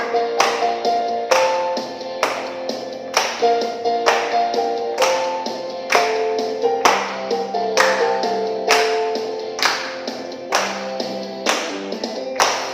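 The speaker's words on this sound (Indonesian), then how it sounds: "Tepuk tangan ya adik-adik ya." Sunday school children clap hands in a steady rhythmic beat along with church worship music, sharp claps repeating about every half second over sustained tones.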